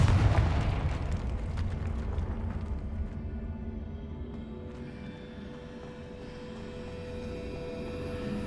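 A Confringo fire spell detonates in the Hogwarts Legacy video game: a loud, booming explosion at the start whose low rumble slowly fades over several seconds, leaving a faint sustained hum.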